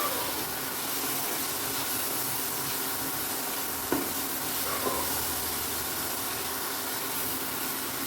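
Chopped tomato stirred into spices frying in a pan, a steady soft sizzle and hiss with a couple of faint spoon scrapes against the pan, no talking.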